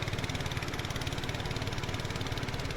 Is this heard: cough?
no